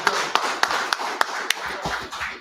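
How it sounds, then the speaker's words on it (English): Scattered hand claps at a Purim feast gathering, a handful of sharp, separate claps at irregular intervals ringing out clearly over faint room murmur. "clap it up for the general, man"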